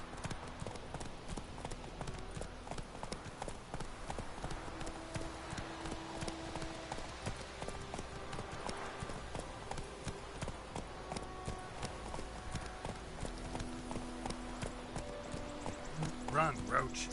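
Roach, a horse in The Witcher 3, gallops in a steady, fast clip-clop of hooves that runs throughout, mixed with game ambience and background music.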